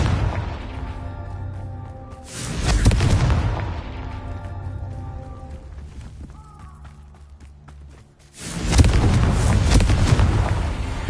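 Two heavy blasting-curse explosions from the Confringo spell in the Hogwarts Legacy video game burst out several seconds apart, each a loud, booming roar that slowly fades, with a quieter rumbling lull between them.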